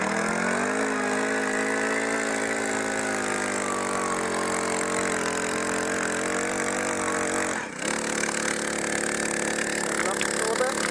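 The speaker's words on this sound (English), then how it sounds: "Gonna drill the hole now." A powered drill bores a hole while building a dock on a lake, running continuously with a steady, droning motor whine, close by and loud, briefly dipping in pitch once as it bores.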